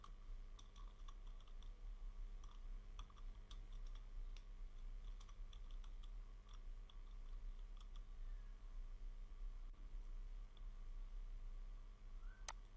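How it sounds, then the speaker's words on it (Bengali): Computer keyboard typing while entering heading text for a Fiverr gig image in Canva, with quick bursts of close clacking keystrokes separated by short pauses, plus a few mouse clicks over a low steady hum. "দেন এখানে লিখে দিচ্ছি বুক অথর ওয়েবসাইট"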